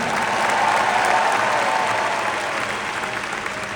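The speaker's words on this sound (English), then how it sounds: "Let's have a big round of applause for Jimmy Goodwin and Ke Huy Quan." Loud, dense audience applause fills a large venue at the Disney D23 Entertainment Showcase, a steady sustained clapping with scattered cheers and no speech over it.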